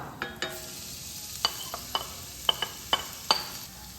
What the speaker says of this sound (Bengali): দু তিন মিনিট ঘিয়ের মধ্যে লাউটাকে ভেজে নেব কাঁচা গন্ধটা কাটানোর জন্য